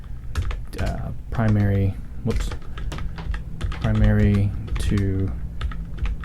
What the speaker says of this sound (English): You can type in